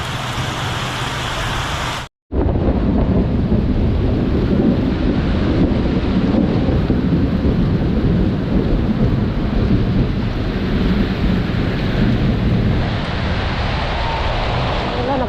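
Heavy rain pours down during a thunderstorm, a loud, constant roaring hiss with deep rumbling underneath, broken by one brief dropout near the start and then continuing unbroken.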